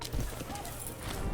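Horse hooves from recruiting horse archers in the strategy game Imperator: Rome, a brief cluster of clip-clop hoof beats with a faint whinny, heard under someone talking.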